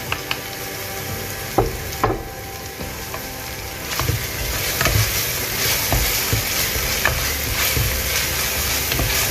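Cloves, a black cardamom pod and an inch of cinnamon stick fry in hot oil in a pan for Punjabi chole, giving a steady close sizzle broken by the occasional clack of stirring.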